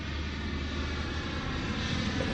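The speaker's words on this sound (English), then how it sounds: "here comes another airplane into the Funny Farm Airport" A propeller airplane drones steadily overhead on approach to a small country airport, a continuous moderate engine hum with no voices.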